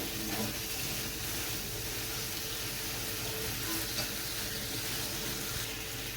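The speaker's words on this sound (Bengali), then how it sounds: "মশলা কষানো হয়ে গেছে" Spices frying in oil for a hilsa fish curry, a steady close sizzle and hiss that carries on evenly throughout with faint stirring, no talking.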